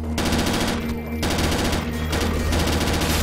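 Automatic gunfire from a weapon in the zombie shooter game BrainBread 2, a dense continuous rattle of rapid shots with brief dips, loud and sustained throughout.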